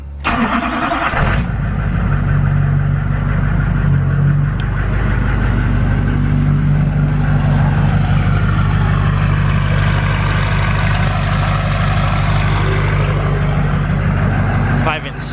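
A Duramax diesel pickup truck with a straight pipe exhaust and built ATS transmission fires up and settles into a loud, deep, rumbling idle, close by and continuous after the start.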